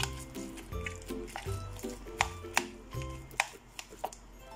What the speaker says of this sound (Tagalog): Hugasan niyo muna po yung tokwan, then i-mash niyo po na ganito.